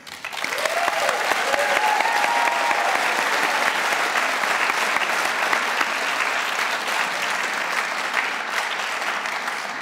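A big crowd gives one more round of applause to graduates at a senior awards night. The dense, even clapping is sustained and loud throughout, with a brief whoop early on and a gradual slight easing toward the end.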